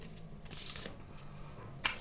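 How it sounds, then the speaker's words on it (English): Tarot cards being shuffled by hand, a soft papery riffling and rustling that comes in a few bursts close to the listener, with one sharper card snap near the end and no talking. "I'm very bad at shuffling, I'm sorry."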